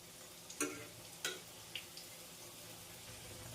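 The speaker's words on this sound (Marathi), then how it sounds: "मीडियम फ्लेमवर हे आपल्याला पूर्ण तळून घ्यायचं आहे" Bhakri samosas deep frying in hot oil over a medium flame give a quiet, steady sizzle, broken by a few soft crackles and pops.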